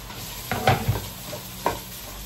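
Onions going into a pot of hot oil for Filipino chicken tinola soup, a few close clanks and stirring scrapes over a faint steady sizzle, brief and moderately loud, no voices.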